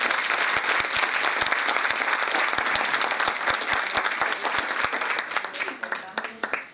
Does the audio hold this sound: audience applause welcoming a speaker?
yes